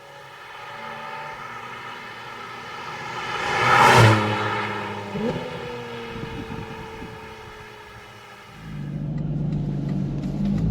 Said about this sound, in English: I really want to get in the car and take it for a drive.